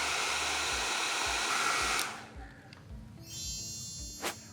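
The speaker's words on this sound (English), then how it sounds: "I would take the dryer. I've got a blow dryer here, a hair dryer" A handheld hair dryer blows in a steady loud roar while drying a stained patch of sofa fabric, then cuts off about halfway through, leaving a quiet room with faint handling noises.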